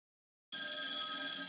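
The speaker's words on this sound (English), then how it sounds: "we got a phone call" A telephone rings in on a podcast for an incoming call, starting abruptly after a moment of silence and holding as a steady electronic tone, fairly clear and alone.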